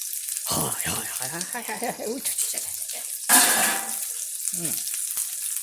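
Japanese-style beef patty (hambaagu) searing in a hot pan over high heat, a bright hissing sizzle with one louder burst partway through, under a person speaking.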